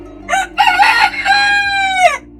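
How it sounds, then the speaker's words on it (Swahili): A rooster crows once at night, a loud, close cock-a-doodle-doo with a short opening note followed by a long drawn-out call that trails off. "Alianza kuwika katikati ya usiku."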